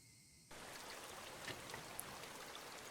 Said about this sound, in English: I hear a river in the background.